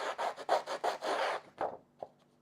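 Rapid scraping strokes of a pink edge distresser rubbing along paper edges for scrapbooking, a run of about six close, fairly loud rasps followed by a couple of lighter scuffs and a short tap.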